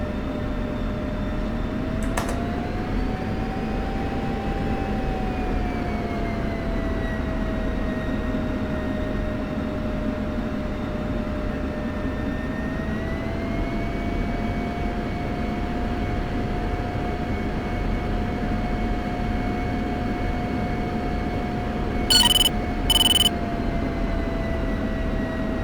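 An F-16C Viper jet taxiing to runway 27 in the DCS World flight simulator, with a steady loud engine whine and rumble that holds throughout, pitch easing up and down slightly, and a couple of brief beeps near the end.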